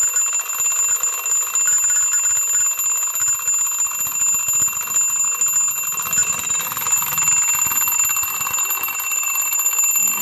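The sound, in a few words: alarm clock ringing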